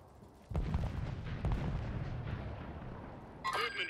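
Gunfire in a first-person shooter game sounds as a couple of sharp, booming shots about a second apart over a rumbling background, close and moderately loud, followed by a brief electronic chirp.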